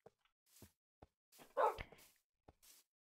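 A tamed dog in a video game gives a few short, soft barks and yips scattered among quiet pauses, one bark louder than the rest.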